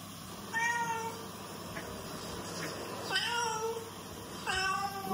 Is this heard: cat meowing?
yes